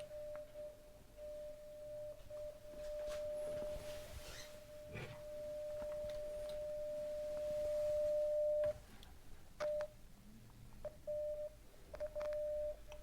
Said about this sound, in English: So I've got a 1 volt peak to peak sine wave at 1000 hertz, and I'm going to feed it into the input.